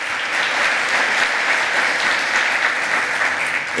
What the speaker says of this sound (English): another round of applause for Bruce Katz